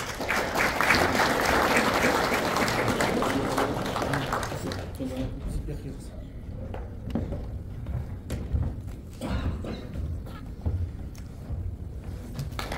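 Audience applause at a certificate presentation for Alaman Ulak federation officials: loud, sustained clapping for about five seconds that thins out into scattered claps, with speaking voices continuing underneath.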